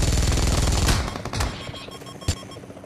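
Weapons fire in PUBG: a loud, sustained burst of automatic fire fades out, followed by a couple of sharp, isolated shots, with no voices.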